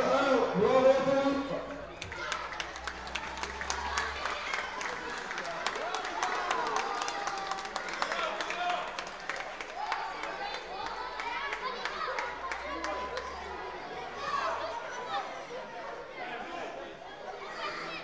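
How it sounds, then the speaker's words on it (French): A crowd at a tournament claps for the winner, a steady patter of applause lasting throughout with loud chatter and voices mixed in. "Et maintenant, on va applaudir le grand vainqueur du tournoi."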